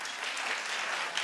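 Scattered clapping from part of an audience answering a show-of-hands style poll, a brief dense patter of hands lasting about a second.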